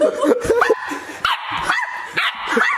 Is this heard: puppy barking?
yes